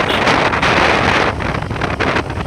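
Loud, steady wind buffeting a microphone on a motorcycle ride along a countryside road past flooded wetlands, a continuous broadband roar that surges and dips slightly throughout, with no voices.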